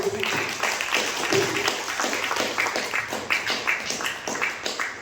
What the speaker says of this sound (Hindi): उनके लिए एक बार जबरदस्त ताली चाहता हूं